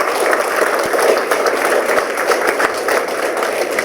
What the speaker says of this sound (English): Give them all a big round of applause.